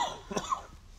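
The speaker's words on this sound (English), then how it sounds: "He'd never coughed a day in his life before he started working here." A man coughs once at close range in a comedy scene, a short rough hack that fades quickly into background room tone, with no talk over it.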